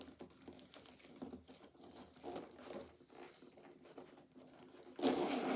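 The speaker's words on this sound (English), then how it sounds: "I'm already having trouble with the zipper." A zipper on a Tefors 48Hr Switch travel bag is tugged open along its expanding side, giving a string of close, scratchy rasps and crinkles in short uneven pulls, ending in a louder burst of handling noise.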